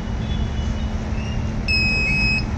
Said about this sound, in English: buzzer will provide as a beeps for 2 times